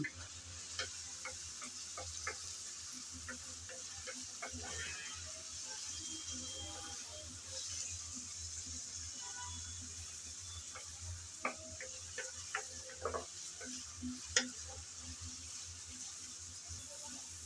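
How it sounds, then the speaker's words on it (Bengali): Cauliflower and carrot stir-frying in a pan make a faint, steady sizzling hiss with scattered light scrapes and taps from stirring, quiet and with no talking. "ফুলকপি গাজর কিছুক্ষণ নেড়ে চেড়ে ভেজে নিয়েছি"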